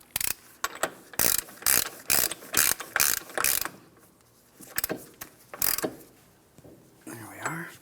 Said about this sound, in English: When we go to install the axle nut, you want to make sure you use a hand tool for this.